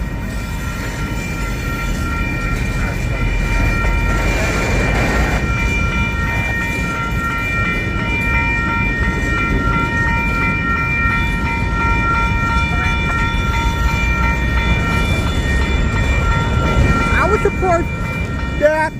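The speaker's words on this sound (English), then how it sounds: "1655, Union Pacific is the leading locomotive" A single Union Pacific locomotive, number 1655, leads a long freight train rolling steadily past up close, its loud continuous rumble and wheel noise holding throughout, with sustained horn-like tones layered on top.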